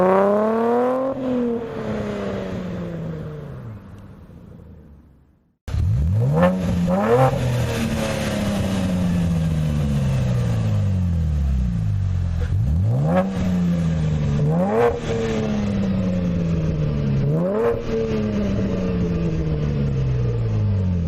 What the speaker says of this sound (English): Here's what the exhaust sounds like as you're driving by.